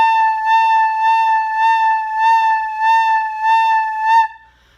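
A beginner flute holds one sustained note, pulsing loud and soft in quick, even eighth-note swells for about four seconds before cutting off, with no voices.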